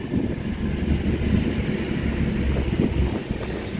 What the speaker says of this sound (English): Class 221 Voyager, cross country, 221135 for Manchester Piccadilly.